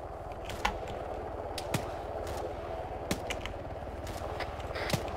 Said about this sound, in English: Some minigun fire at the flare.